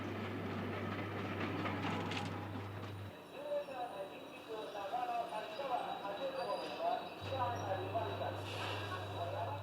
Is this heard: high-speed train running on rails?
yes